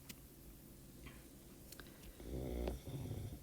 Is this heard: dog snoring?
yes